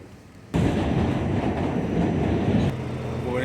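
A train on a Brooklyn commuter rail line roars in suddenly after a quiet moment, a loud, close, steady rumble of wheels and cars, with a thinner metallic squeal near the end.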